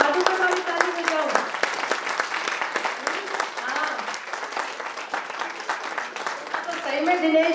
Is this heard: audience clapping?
yes